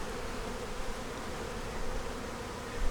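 Honeybees buzz around the small bottom entrance of a hive, a dense continuous drone close by, steady in loudness and swelling slightly at the end.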